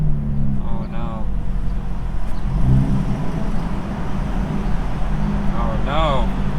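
A Hyundai Elantra N stuck in downshift mode drones steadily on a highway, its engine note rising and falling as it revs, with traffic noise around and a voice talking over it.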